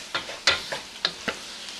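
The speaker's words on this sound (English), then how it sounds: "So easy to get stuff off the sides with the wok." Bamboo utensils scrape and stir ribeye steak around a wok in a series of distinct, close strokes over a soft sizzle, with no voices.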